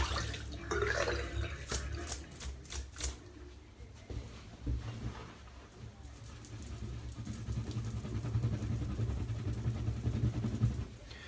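Water splashes and runs as a 26mm synthetic shaving brush with a marble-effect handle is rinsed under a tap, with close dripping and sloshing at first, then a steadier low rush of running water.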